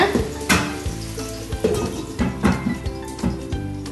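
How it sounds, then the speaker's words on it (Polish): Chicken burger patties sizzle and spatter in hot fat in a frying pan, a steady crackling fry with occasional clinks of the pan. "Na dobrze rozgrzany tłuszcz nakładamy nasze kotlety."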